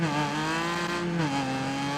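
A rally car in the racing game Gravel revs steadily with a sustained, harmonically rich engine note, pitch dipping slightly midway as it shifts gear, loud and continuous with no talk.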